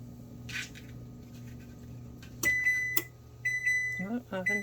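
A kitchen oven sounds a few sharp electronic beeps to signal it has finished preheating for a homemade vegetarian pizza, heard clearly over a low steady appliance hum.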